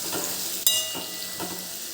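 Capsicum curry being stirred in a pan, with a soft sizzle under scraping strokes and one sharp clink of the spoon against the metal partway through.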